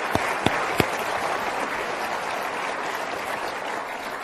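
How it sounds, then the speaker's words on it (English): Steady audience applause at a scientific conference fills the space, with a few sharp claps standing out near the start before settling into an even roar. "join in giving a round of applause to the IPCC for what they've done"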